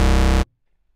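A hollow bass synth patch built in the Zebra CM plugin plays one bright, buzzy sustained note for under half a second, then cuts off abruptly into silence.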